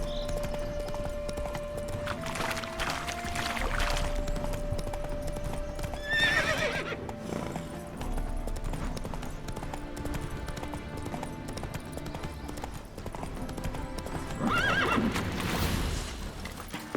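Roach, Geralt's horse in The Witcher 3, gallops with a steady drumming of hooves and lets out several whinnying neighs, close and clear over game ambience.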